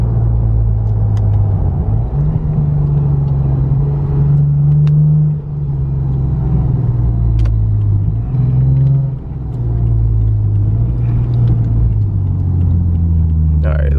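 A Lexus IS350 fitted with an FBO exhaust pulls hard and drops through downshifts, its deep, loud rumble rising and falling in steady surges as revs climb and blip, close and continuous from start to finish.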